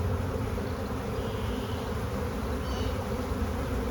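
A swarm of honeybees buzzes all around, a dense, loud, continuous hum close by with individual bees whining past, no talk.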